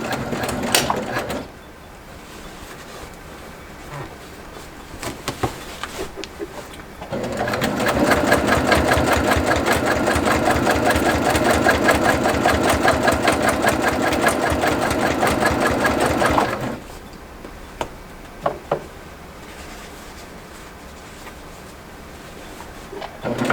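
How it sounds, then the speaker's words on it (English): Sewing machine stitching quilt binding with a binding foot, a steady fast mechanical whir running for about ten seconds mid-clip, with quieter handling clicks and pauses before and after. "I just keep a tiny bit of the binding fabric visible inside that foot, and it stitches perfect every time."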